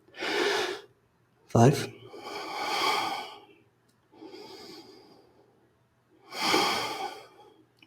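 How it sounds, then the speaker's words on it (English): Deep yoga breaths taken while curled over in a side stretch, several long audible inhales and exhales with a sharp gasp among them, close and fairly quiet, broken by a brief counting voice. "5 full breaths here."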